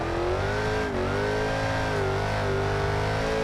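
A racing video game car engine revs steadily while drifting, a loud sustained mid-pitched drone with rising and falling pitch, no voices over it.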